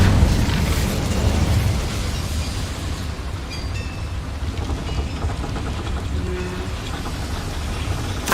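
A fire spell cast in Hogwarts Legacy on PC: a dense, roaring burst of flame rumbles loud and steady for about eight seconds, with low booming energy and crackling flickers throughout, no talk.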